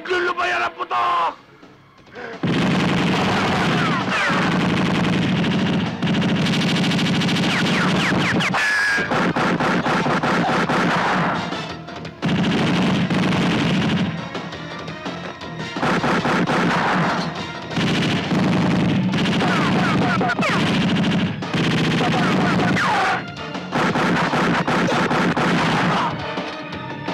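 Sustained gunfire pounds in dense bursts, with only brief pauses. Voices shout under the din.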